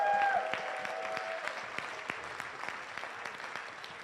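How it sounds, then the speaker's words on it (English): An audience at an Ignite Seattle talk event claps in sustained applause that slowly fades, with a brief voice at the start. "Give him a second round of applause"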